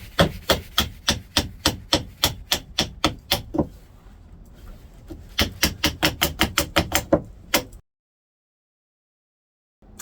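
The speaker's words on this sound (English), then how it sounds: "we're going to split these down through the centre using our knife and a batten" A knife blade driven through a wood stick by repeated batten strikes, sharp wooden knocks in quick even runs, a pause, then another fast series, close and loud with no talking.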